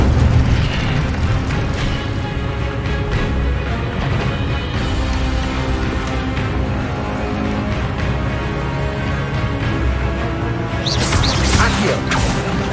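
An Incendio fire spell cast in the Hogwarts Legacy video game gives a loud, rumbling burst of flame over a continuous roar of heavy combat effects, ending in a sharp crackling flare.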